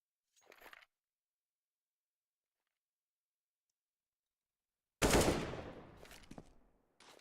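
A sharp, loud AWP sniper rifle shot from Counter-Strike: Global Offensive during a competitive ESEA match, preceded by a brief fainter burst and followed by a ringing tail and a small click.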